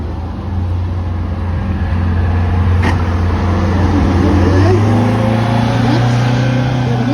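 An Eagle 15 bus rolls past in a parade at a historical bus festival, a loud, steady low engine drone that swells slightly as it nears, with people talking over it.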